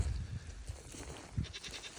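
Goats and sheep bleat on an Arkansas farm kept inside Premier One fencing during an icy freezing-rain spell, several low calls at moderate distance over steady outdoor background noise, with no one talking.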